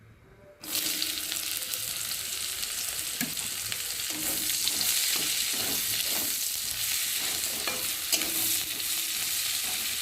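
Chopped onion hits hot oil in a pan and is stirred, giving a sudden burst of steady sizzling with repeated scraping strokes of a spoon.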